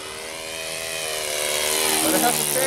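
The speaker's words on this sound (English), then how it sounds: "I'm using a quarter of throttle and it's very fast plane." An RC Pietenpol Air Camper plane with an ASP 5cc four-stroke engine flies past, its buzzing engine drone rising steadily in loudness as it approaches outdoors.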